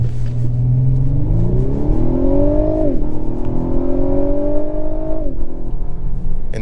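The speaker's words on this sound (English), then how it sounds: "more acceleration now that we have a clearer piece of road." A 2023 Lexus LS500 AWD accelerates hard from a brake-boosted launch, its engine note climbing steeply through gears with a short dip at each shift, loud and continuous from inside the cabin.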